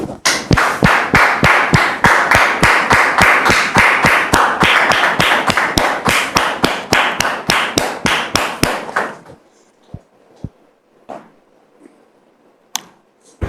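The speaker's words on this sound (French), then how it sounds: "Merci de recevoir Dame Mariette ici sous vos applaudissements." Studio audience applauds to welcome a guest onto a talk show, loud dense clapping for about nine seconds that cuts off abruptly, followed by a few isolated taps and knocks in a quiet room.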